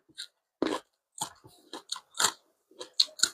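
Crunchy glass noodle salad with wood ear mushrooms and blanched shrimp is chewed close up, a string of sharp, separate crunchy bites in an irregular rhythm against silence.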